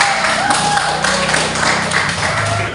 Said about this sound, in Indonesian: Tepuk tangan dulu untuk Indah.